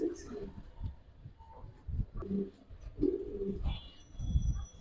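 Silver, pankhi, army and coloured pigeons at a loft coo softly in low repeated bursts, mixed with people talking nearby.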